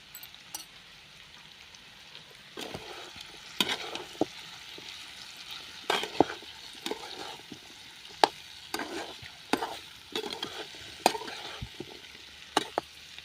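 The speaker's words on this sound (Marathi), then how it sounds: "आता चांगलं 1-2-3 मिनटं आपण परतून घेऊया." Amla pickle spices with turmeric being stirred in a pan: a soft, low frying hiss broken by sharp, irregular scrapes and clicks of a spoon against the pan. Nobody speaks.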